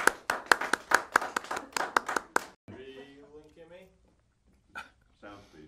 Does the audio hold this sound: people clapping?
yes